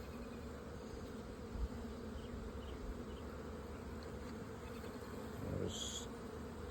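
Worker honeybees, sterile females, hum steadily and closely in an open hive throughout, a continuous buzzing drone with a brief louder swell near the end and no voices.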